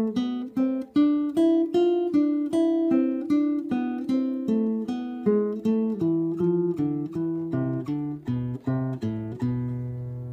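Charango picking out the Vírgenes del Sol melody, a steady run of bright plucked notes with ringing strings, played alone and close with no talking.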